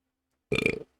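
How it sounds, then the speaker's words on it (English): One loud, close burp, a short rumbling belch of about a third of a second, follows silence and stands alone. "I just let out a massive burp."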